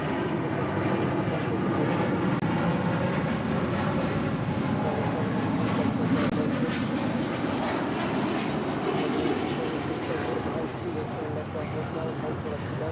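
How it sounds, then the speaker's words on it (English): A Delta Airlines Airbus A330neo jet departs, a steady broad engine roar heard from a distance with faint talking over it. "This is Delta Airlines Flight 7 departing to Tokyo Haneda on the A330 NEO"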